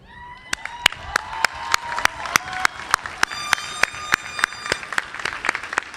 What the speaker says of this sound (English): Some of those people are in the audience right now cheering for you.